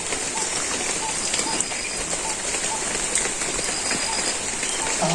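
Steady rain pours down in a dense, even hiss, with scattered drops pattering close by throughout.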